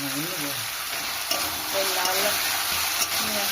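Tomato fries with spices in a pan for Kolkata-style ghugni, a steady close sizzle broken by soft scraping stirs, with a faint high whine running under it and no talk.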